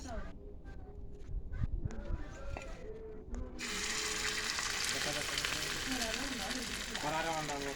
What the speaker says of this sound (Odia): ଖରାରେ ଅଣ୍ଡା ଭଜା ହେଇଗଲା।